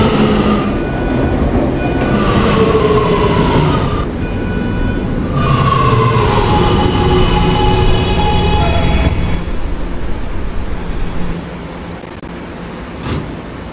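A Roblox video game subway train, an R211A on the R local line, rumbles steadily along the tracks with a continuous low roar, faint tonal whines, and a brief high squeal near the end.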